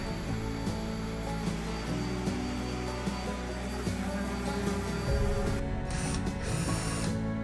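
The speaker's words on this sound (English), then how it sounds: "I'm going in lightly with my orbital sander just to smooth everything out" An orbital sander smooths old paint on a metal front door, giving a steady, close mechanical whir with a faint rattling buzz that runs continuously and grows a little rougher near the end.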